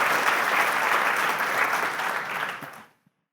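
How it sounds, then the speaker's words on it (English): Applause from a conference audience at the end of a talk, dense clapping that holds steady for a couple of seconds, then fades quickly to silence. "round of applause."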